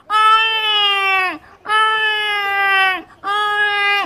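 A newborn baby cries loudly and close by in three long wailing bursts separated by short breaths for air, with no other sounds over it.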